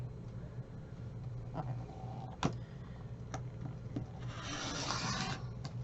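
A rotary cutter slicing diagonally through quilting fabric on a cutting board: soft rubbing and rolling scrapes with a few sharp ticks and a brighter hissing swipe near the end, close and quiet with no talk.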